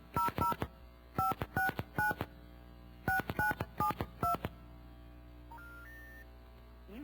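Touch-tone telephone dialing in several quick bursts of paired-tone beeps, clear and close, followed by a few higher single tones.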